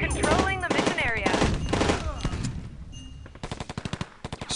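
Rapid automatic gunfire crackles through a firefight in the mobile shooter Rivals at War Firefight, with dense overlapping shots early on and then a steady run of distinct, evenly spaced rounds toward the end.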